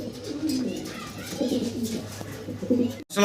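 A pair of fancy Mundian pigeons coos nearby in low, throaty, repeated calls, fairly loud and close, with a brief knock at the end.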